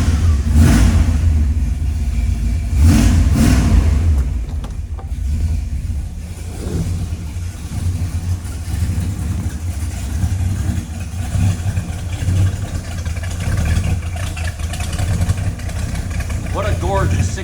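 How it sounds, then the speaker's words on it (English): A 1969 Dodge Dart with a 340 V8 and 4-speed, restored in Hemi Orange, cranks over and catches, then settles into a loud, lumpy idle with occasional revs; someone talks over it at times. "We'll start her up here."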